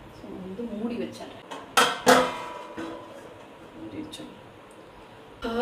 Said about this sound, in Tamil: ஸோ வந்து மூடி வச்சிடுறேன்.